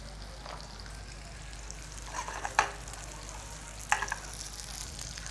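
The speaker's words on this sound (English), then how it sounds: "You see the potatoes are cooking nicely in the oil and butter." Potatoes fry in oil and butter with a quiet, steady sizzle and two brief clattering stirs partway through.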